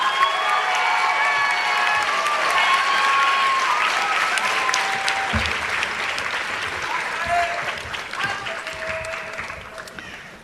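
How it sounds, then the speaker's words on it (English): Audience at a high school JROTC awards ceremony applauding Echo Company, a long sustained round of clapping with scattered cheers that gradually thins out and fades. "Please join me in a round of applause for Echo Company."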